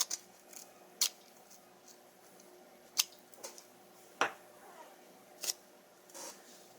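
Scissors snip through tape for henna stencils, about six to eight quiet crisp cuts spaced irregularly, close by against a faint, quiet background.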